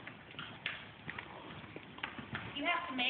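A horse's hooves clip-clop at a walk on firm ground, irregular faint knocks spaced out under people talking nearby.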